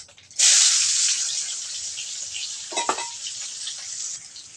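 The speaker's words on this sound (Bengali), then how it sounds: "এবার আমি মাছগুলো নামিয়ে নেব এই তেলের মাঝে পেঁয়াজ কুচি তেজপাতা এবং এলাচ থেতো করে দিয়ে দিব" Fish frying in hot oil with chopped onion, bay leaf and crushed cardamom, a loud steady sizzle that bursts in suddenly and holds, with a brief stir or clatter partway through and no talking.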